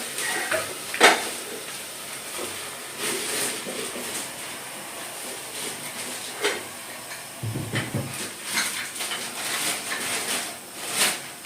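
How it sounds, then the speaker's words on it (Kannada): Chicken pieces drop into ginger-garlic paste frying in a pan, giving a steady close hiss and sizzle with a few sharp clatters of the pan and stirring spoon along the way, and no talk over it. "ಈಗ ಶುಂಠಿ ಬೆಳ್ಳುಳ್ಳಿ ಪೇಸ್ಟ್ ಚೆನ್ನಾಗಿ ಫ್ರೈ ಆಗಿದೆ. ಚಿಕನ್ ಹಾಕ್ಕೊತಾ ಇದ್ದೀನಿ."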